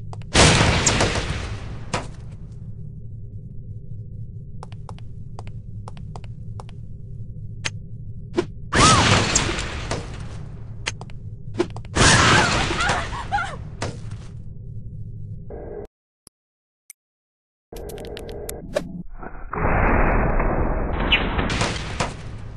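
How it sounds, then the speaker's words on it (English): Impact grenades in No One Lives Forever go off as several loud, separate blasts with crackling tails, spaced across the stretch between quieter low room tone and a brief full dropout, followed by a sustained harsher burst near the end. "Devices that detonate on impact. Accustom yourself to the weight and explosion radius"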